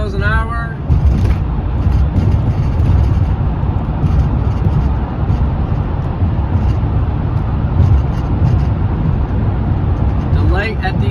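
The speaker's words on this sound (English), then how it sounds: "I'm driving 50 miles an hour." Car travelling at about 50 mph through West Rock Tunnel in New Haven, a loud, steady roar of engine and tire noise echoing off the tunnel walls, with a brief passing swell near the end.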